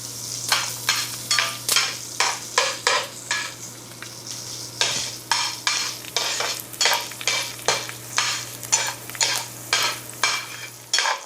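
Onions sauté in a pan for a Filipino eggplant dish, with rhythmic back-and-forth stirring strokes about once a second over a sizzle, close and clear, with a faint steady hum underneath.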